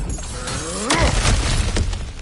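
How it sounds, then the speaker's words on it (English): Cracked ground smashed open in God of War Ragnarök: a single loud shattering crash of breaking rock and debris, followed by scattered crumbling and falling fragments, close and alone. "Ah, back to smashing through things for fun and profit."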